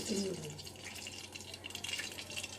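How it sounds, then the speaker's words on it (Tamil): Cooking oil poured in a kitchen while a Bombay chutney is made, a steady liquid stream running under nearby talk for a couple of seconds. "எண்ணெய் ஊற்றிட்டு"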